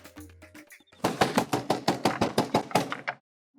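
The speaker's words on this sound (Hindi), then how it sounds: "देख इतनी रात को कौन खटखटा रहा है दरवाजा?" Loud, rapid knocking on a door late at night, about ten close, evenly spaced raps in a steady burst that stops abruptly.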